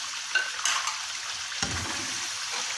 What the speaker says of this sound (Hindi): हम इसको हिला लेंगे।